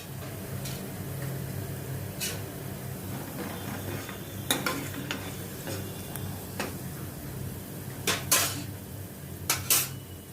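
Onions roast in a pan on a gas stove, heard as a low steady sizzle under scattered metallic clinks and scrapes of a utensil against the pan, close by.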